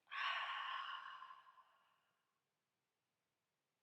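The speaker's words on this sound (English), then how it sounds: "Take a deep breath in. Long breath out." One long, slow exhale through the mouth, close and soft, airy and steady before tapering off into silence.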